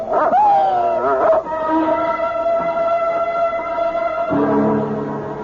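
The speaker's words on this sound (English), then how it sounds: "It's only a dog, for Pete's sake." A dog on an old radio drama lets out a long sustained howl with a whimpering, wavering rise at the start, holding steady and loud for several seconds before a second howling burst near the end.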